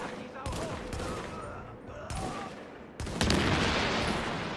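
Rapid gunfire in Tom Clancy's The Division, several loud bursts of automatic fire separated by short gaps, with the final burst denser and sustained; a voice talks briefly between shots.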